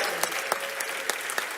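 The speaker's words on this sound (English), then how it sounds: "Give them a big cheer." A conference audience at DEF CON applauds in a brief burst of close, crisp claps with a few sharper individual claps standing out over the crowd.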